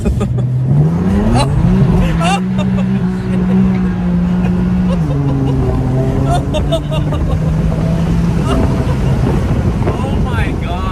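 A car with a Stage 1 BootMod3 tune accelerates hard with wheelspin. The loud engine note climbs and steps through the revs, heard from inside the cabin with people talking over it.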